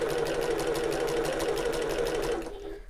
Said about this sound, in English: And then I'm sewing at 1/8 of an inch from the edge